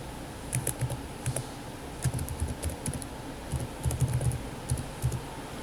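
Keys on a computer keyboard clatter in short irregular bursts while a password is entered, close and crisp over a faint low room hum.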